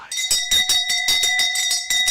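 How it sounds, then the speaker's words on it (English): An alarm bell rings loudly and continuously, its rapid metallic strikes forming a steady clanging pulse used as a sound effect on a New Year's Eve newspaper review show. "Ringing the alarm right there"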